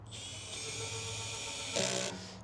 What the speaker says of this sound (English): Now it sounds like I'm cranking on them, but it's only at level 6